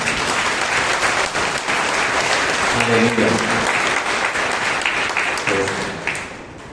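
Congregation at a Monday prayer meeting claps steadily throughout, a dense sustained applause that fades slightly at the end, with a voice speaking briefly over it midway.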